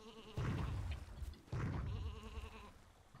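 Sheep in the video game Isle of Ewe bleating twice, two loud, wavering baas about a second apart, close and clear with no talking.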